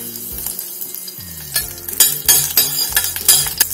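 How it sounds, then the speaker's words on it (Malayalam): Cloves and a small piece of cinnamon frying in coconut oil inside a cooker, a steady close sizzle with sharper crackles and a few scraping stirs toward the end, no talking. "ഇതിലേക്ക് കുറച്ച് വെളിച്ചെണ്ണ ഒഴിച്ചു കൊടുക്കുകയാണ്. ഇനി ഇതിലേക്ക് 4 ഗ്രാമ്പു ഒരു ചെറിയ പട്ടയുടെ കഷ്ണം ഇട്ട് കൊടുക്കാം."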